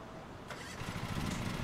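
A ride-on lawn mower engine in Lawn Mowing Simulator cranks and catches, a rough low rumble rising and settling into a steady running chug over a short moment.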